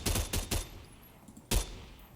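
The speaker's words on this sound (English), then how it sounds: "they changed the sound of the SMG" SMG fire in Fortnite: three quick, loud shots in a tight burst, a short pause, then one more sharp shot, with no talking.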